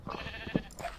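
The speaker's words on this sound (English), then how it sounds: "shear up these sheep" A short synthetic Minecraft sheep bleat rises briefly over low background noise, close, heard once in about a second.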